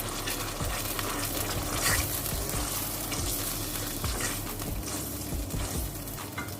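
Tomato paste being mixed into bhindi gosht as it fries, a wet, steady sizzle with continuous stirring and scraping in the pan, close and even throughout, without any voices.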